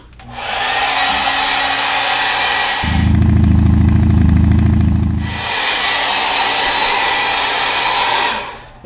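A hair dryer blows on wet paint on a mantis shrimp artwork, a loud steady whooshing roar that drops to a deeper, heavier hum for a couple of seconds midway before returning to its hiss, running nearly the whole time with no talking.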